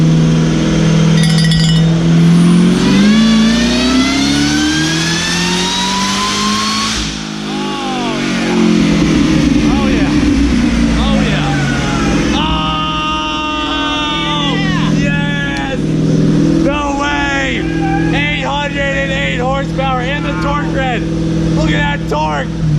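A car engine on a dyno power run revs hard through rising and falling pitch sweeps, loud and close, with excited voices talking over the roar.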